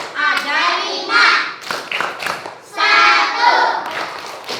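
Schoolchildren in a second-grade Islamic studies class chant together while clapping in rhythm, bursts of young voices alternating with sharp handclaps, loud and close.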